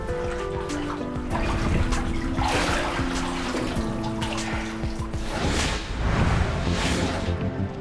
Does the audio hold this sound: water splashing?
yes